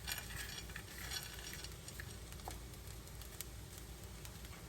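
Cooked Chinese sausage is stirred into fried rice in a pan, a quiet steady sizzle with soft scraping and spatula taps against the metal.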